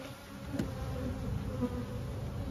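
Honey bees buzz steadily at a beehive, a dense continuous hum close by with no pauses, filling the whole stretch without any voices.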